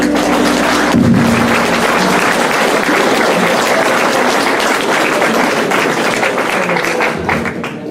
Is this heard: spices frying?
no